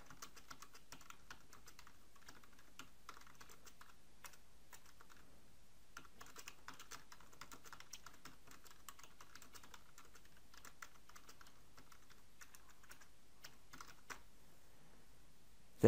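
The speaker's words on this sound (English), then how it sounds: "Then you can type in a title. And then type your text underneath." Steady typing on a computer keyboard, quiet and close, with even, continuous key clicks running throughout and no voices.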